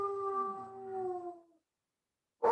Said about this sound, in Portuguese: os cães estão apavorando